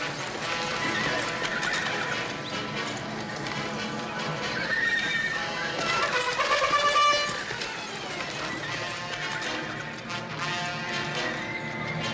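Horses in a classic western film neigh and whinny over steady clip-clopping hooves, fairly close and continuous for about twelve seconds, with a louder burst of whinnying near the middle and no talk heard.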